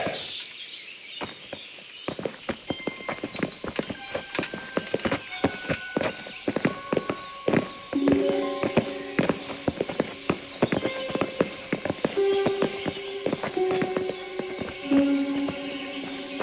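Horse hooves clip-clop steadily in the medieval game Kingdom Come: Deliverance, a continuous rhythmic walking patter at moderate distance, with occasional whinnies, birdsong and ambient game sounds around it.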